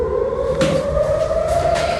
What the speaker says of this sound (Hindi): सायरन सायरन आप सुन सकते हैं?